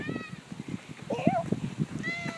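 A cat gives a single rising meow, close by, with a person talking softly around it.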